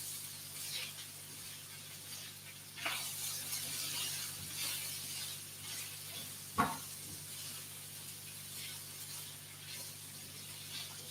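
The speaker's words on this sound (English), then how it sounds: "And I am mixing it around just to cool it down a little bit." A spatula scraping and stirring crispy quesadilla filling around a pan taken off the heat, light intermittent scrapes and a couple of sharper clacks over a faint residual sizzle, no speech.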